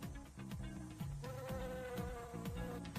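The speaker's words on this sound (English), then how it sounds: "This plant has bright yellow flowers that offer nectar to bees. And here come the bees." Buzzing bees fly in toward bright yellow flowers in a cartoon, several wavering drones that rise and fall against a light musical background, with quick sliding whooshes as they dart around, no voices.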